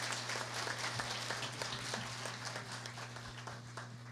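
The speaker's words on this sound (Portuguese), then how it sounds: "Aplausos." At a formal ceremony honouring Curitiba's champion samba schools, the audience gives a round of applause, with scattered individual claps over a low, steady hum in a large hall, fairly faint and distant.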